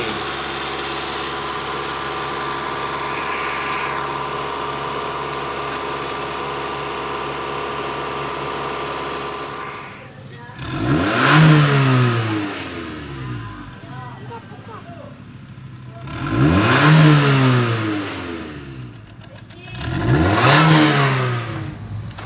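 A tuned 2006 Kia Carens with a 1800 cc engine idles steadily, then is revved three times, each rev rising sharply and falling back to idle. The engine is close by.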